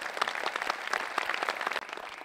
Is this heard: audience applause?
yes